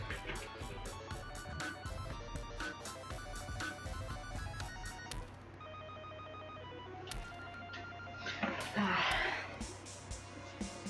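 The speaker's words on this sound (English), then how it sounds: "Phone." Telephone ringing in the game Terraria, a repeated electronic ring pattern layered over dense game music and effects, with a voice breaking in near the end.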